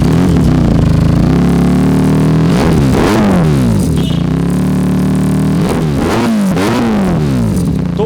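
A used superbike's engine revs loudly and close by, with repeated throttle blips rising and falling over a steady idle, no talking.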